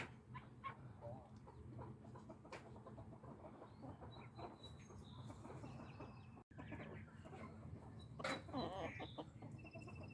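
Backyard silkie chickens cluck in soft, scattered bursts around a farmyard, with other poultry sounds and a rooster's calls rising near the end, steady ambient noise underneath.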